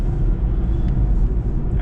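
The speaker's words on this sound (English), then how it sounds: "It's recently had a new cam chain, I believe, which is that humming sound you can hear" A car engine hums steadily from the cabin while driving, reportedly from a newly fitted cam chain, as a continuous low drone mixed with road rumble, loud and unbroken throughout.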